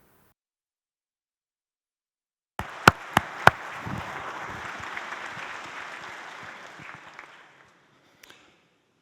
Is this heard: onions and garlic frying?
no